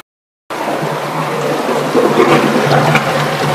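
A chiller's brine circulation pump starts after a brief silence, giving a steady, close churning hum of running liquid with a low drone that continues throughout.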